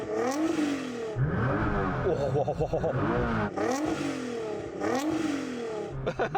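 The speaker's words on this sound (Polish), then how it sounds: "Oto jak brzmi GTR." A Nissan GT-R's engine revs loudly and close by in several rising bursts with harmonic whine, dropping back between pulls, alone without talk.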